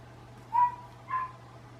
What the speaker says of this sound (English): Probably why the dog is out there barking.